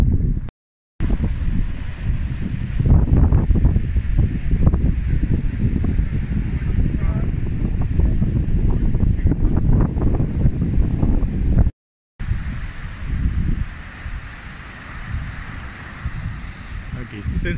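Strong wind buffets the microphone beside the sea near a river mouth at Milfontes, a loud, continuous rumble with wave wash beneath it that cuts out briefly twice.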